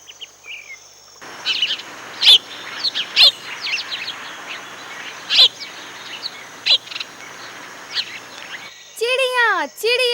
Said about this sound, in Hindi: चिड़िया चिड़िया।